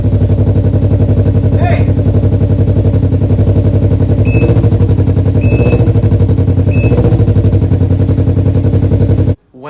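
Can-Am Ryker motorcycle fitted with a new aftermarket exhaust, a loud, continuous low growling engine rumble close by, with a few revving swells, a short shout over it and an abrupt cutoff at the end.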